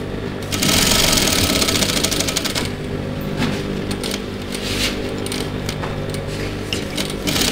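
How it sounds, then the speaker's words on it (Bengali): Sewing machine running in steady bursts as it stitches folded garment fabric along a seam while a hidden zipper is sewn in, a fast mechanical chatter that is loud and close, with a brief back stitch near the start. "এই স্টিচ বরাবর আমরা সুইং করব"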